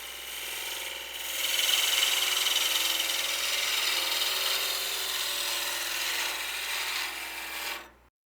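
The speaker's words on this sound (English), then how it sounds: "it's cutting fantastic with the gouge when we're cutting into it this way" A gouge cuts into spinning wood on a lathe with a negative rake scraping technique, making fine dust rather than chips. It gives a steady, close, broadband hiss that swells after a second, holds for about seven seconds and then stops abruptly.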